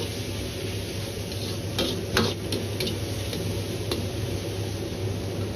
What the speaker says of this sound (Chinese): 翻炒个5秒钟左右